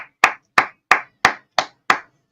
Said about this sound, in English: round of applause for Kathy from the Indie Zone